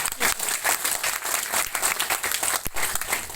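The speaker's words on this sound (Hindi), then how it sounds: "एक बार ताली बजाओ फिर से मेरे प्यारे भोपाल" Audience at a Kangen water demonstration clapping vigorously, a dense, close burst of applause with uneven pulses filling the whole stretch.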